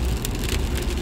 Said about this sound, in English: I don't remember it saying it's gonna rain today whatsoever, but I guess I missed that one.